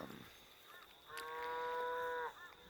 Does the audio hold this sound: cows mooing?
yes